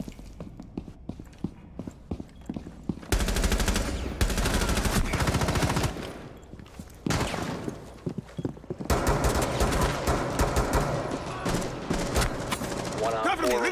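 Rapid bursts of gunfire in a PC shooter game, dense and loud from about three seconds on, pausing briefly then resuming, with a voice talking throughout.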